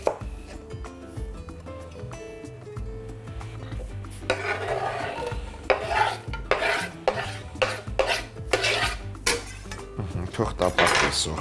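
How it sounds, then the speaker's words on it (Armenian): Onion frying in a pan with a few drops of olive oil for a chicken-heart and mushroom salad, with loud, busy scraping and clattering from stirring in bursts over a faint sizzle and quiet background music. "Սոխը կտապակեմ մի քանի կաթիլ ձիթայուղով։"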